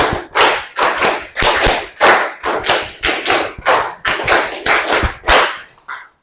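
A classroom of students claps together in a counting pattern, sharp group claps in repeated quick bursts separated by short pauses, loud and close, with no talking.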